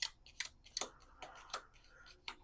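Quiet crisp riffling and snapping of cards being shuffled, a series of short sharp bursts close by.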